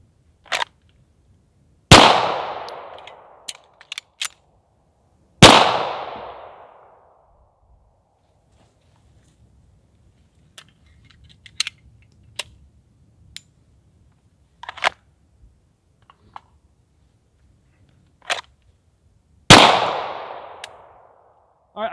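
A Springfield 1911 Range Officer pistol fired in four loud, sharply ringing single shots spread apart, with quieter clicks and handling noises of the slide and magazine in between at an outdoor range.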